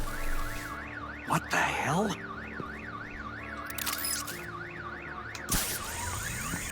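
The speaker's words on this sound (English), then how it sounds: "My bat stunner would set off the car alarm." A car alarm in a Batman video game, set off by a bat stunner, wails in a fast rising-and-falling cycle throughout, with a few sharp bangs and a startled voice breaking in.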